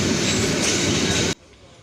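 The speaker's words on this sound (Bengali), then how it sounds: "এগারোটা বেজে বারো মিনিটে তিস্তা এক্সপ্রেস ট্রেনটি ময়মনসিংহ রেলওয়ে জংশন থেকে ছেড়ে গেল জামালপুরের উদ্দেশ্যে" The Tista Express rolls loudly on old rails near Mymensingh railway junction, a dense continuous roar and rattle that cuts off abruptly, leaving a much quieter hum.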